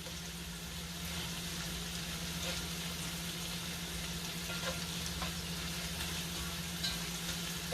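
Shrimp and broccoli fry in a pan, giving a steady, even sizzle close by with a constant low hum underneath and no talking.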